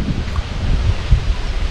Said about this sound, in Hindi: और हवा चल रही है खतरनाक वाली।